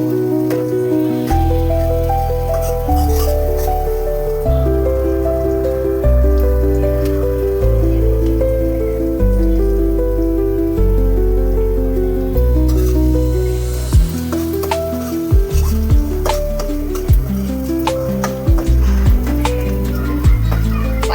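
Two green chillies sizzle in hot oil with garlic as they are sautéed for a tomato chutney. There is a steady hiss with light stirring under continuous background music.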